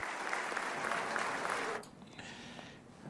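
Applause from a large crowd at a presidential address, a dense steady clatter of clapping for nearly two seconds that cuts off sharply and gives way to faint room murmur.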